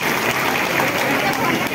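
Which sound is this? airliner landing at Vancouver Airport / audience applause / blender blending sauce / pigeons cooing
audience applause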